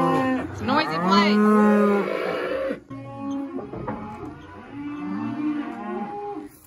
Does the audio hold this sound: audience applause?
no